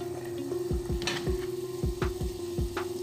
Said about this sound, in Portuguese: Deixa esquentar bem e vamos colocar aqui para fritar